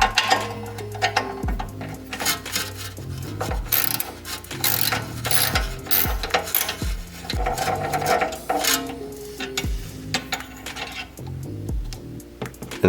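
Wrench turning a 10mm nut on the headlight leveling sensor of a BMW F80 M3, countered with a 9mm wrench: a close, steady run of ratcheting clicks and metallic ticks with small knocks, no voices.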